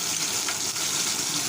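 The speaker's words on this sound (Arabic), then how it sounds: "البدنجان ابتدى يحمر، هحط فص الثوم وهطفي عليه بحبة خل" Vinegar splashing onto eggplant and garlic frying in oil over a kerosene stove, a loud, steady hiss and sizzle that fills the whole moment without pause.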